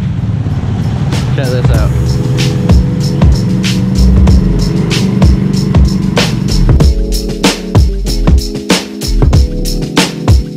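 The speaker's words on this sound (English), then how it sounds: "Traffic here is absolutely insane" Busy street traffic in El Nido, Philippines, with loud, close engines of passing vehicles and a clatter of sharp knocks and rattles. Someone speaks briefly over the noise.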